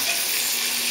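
Beef sears in coconut oil in a cast iron pan over medium heat, a steady, close, bright hiss of sizzling fat with no pauses.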